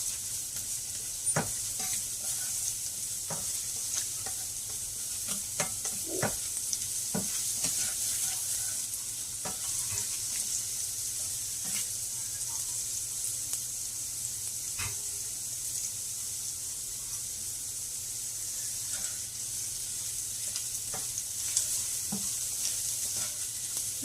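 Keto meal-prep food sizzles steadily in a hot pan, a constant bright frying hiss with scattered clicks and scrapes of stirring, moderately close and without speech.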